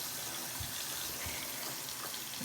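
Tap water runs steadily into a WaterPik reservoir, a close, continuous broadband rush with slight splashy variation and no voices.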